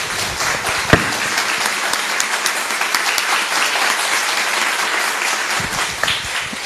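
A church congregation bursts into applause after a prayer, a loud, sustained round of clapping with a sharp knock near the start and a few louder claps near the end.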